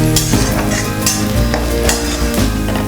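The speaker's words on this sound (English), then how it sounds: "And now I stir all this very nicely." Kadai chicken masala being stirred in a pan, with a steady loud sizzle and frying hiss and periodic scraping strokes of a spoon against the metal pan, no voices.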